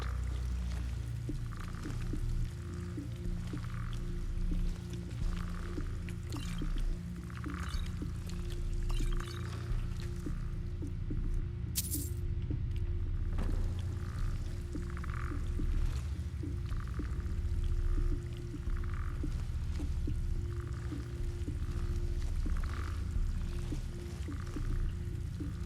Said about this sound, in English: Hear that clacking noise. If it sounds like a chaurus,